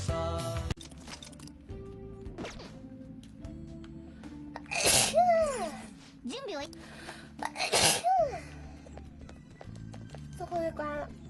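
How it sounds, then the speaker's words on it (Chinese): Repeated wet allergy sneezes from a young woman, two sharp loud bursts a few seconds apart with a gasping pitch rise, set among her talking in a quiet room. "最近真的这个打喷嚏打太多了，都很累"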